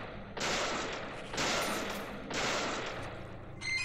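Gunfire in the video game Deadly Premonition comes as three long, loud roaring bursts, each about a second, separated by short pauses, followed by a brief electronic game tone at the end.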